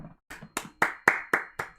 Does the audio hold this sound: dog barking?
no